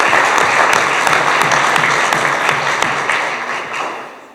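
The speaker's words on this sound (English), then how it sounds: "let's give her a round of applause for her" Audience applause at a chamber of commerce leadership breakfast, a full room clapping loudly and steadily, then gradually tapering off toward the end.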